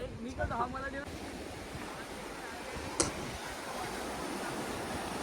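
Continuous rushing surf and wind noise, waves of the sea at Harihareshwar washing in at a distance with a brief sharp knock partway through.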